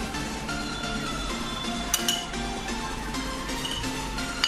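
Eggs, ghee, cardamom powder and baking soda being mixed in a bowl for bread rasmalai, with a steady soft scraping and occasional light clinks of the utensil against the bowl, close and continuous.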